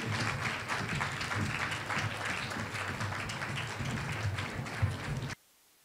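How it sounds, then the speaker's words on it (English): An audience at a live knitwear fashion show in New York gives a steady round of applause for the models, dense and sustained for about five seconds before cutting off abruptly into silence. "They need a round of applause."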